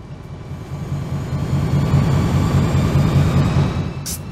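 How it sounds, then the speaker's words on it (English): A large MAN 49/60DF dual-fuel engine in gas mode drones steadily and grows louder and heavier as its load rises from 15% toward 85%, a deep pulsing rumble close by with no voices. "Listen to the engine sound."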